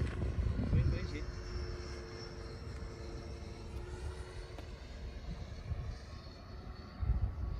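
A 105mm AT-3 trainer jet model aircraft flies level overhead with a steady, moderate engine whine and airflow hiss, partly distant, with wind buffeting and brief louder gusts near the start and end.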